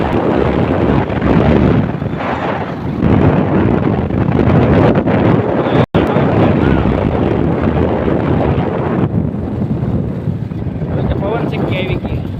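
Strong wind blowing across open hill country, roaring steadily into the microphone with gusty swells, while a person talks through much of it.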